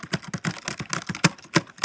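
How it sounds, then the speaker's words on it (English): Quick typing on a computer keyboard, a close, rapid run of clicky keystrokes at an uneven pace with a few heavier taps, and no voices. "If I could really type this fast, that would be amazing."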